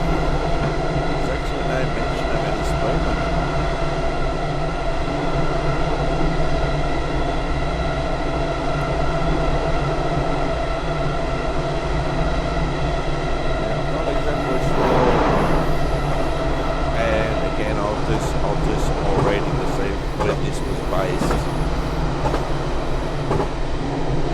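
A Yamanote Line train in JR East Train Simulator rolls steadily through Tokyo, a constant loud rumble and whine of motors and wheels with faint clicks and a brief squeal midway, no talk over it.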